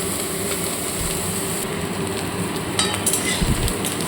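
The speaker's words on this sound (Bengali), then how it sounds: "দেখুন মাছ ভাজাটা প্রায় আমার হয়ে এসেছে" Prawns frying in oil in a pan, giving a steady, dense sizzling hiss that holds even and fairly loud throughout with small crackling spikes near the end.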